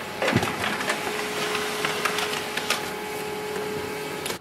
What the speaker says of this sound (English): Now printer will print an information page.